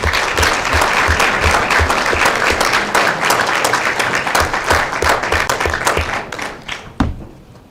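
Audience applause for state finalists at a school board meeting, a dense, loud round of many hands clapping steadily for several seconds before tapering off.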